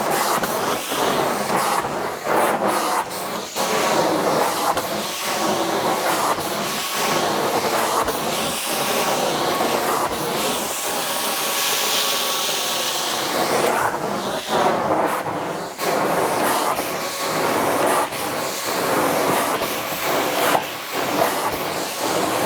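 A Dream Machine carpet cleaning machine runs at a resort cabin in freezing weather, giving a continuous loud, rushing hiss and roar with fluctuating surges, close by and without talk.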